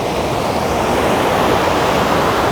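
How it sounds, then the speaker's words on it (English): A waterfall roars up close as a dense, steady broadband rush of falling water, loud and unbroken throughout with no voices. "I come quite closer to the waterfalls"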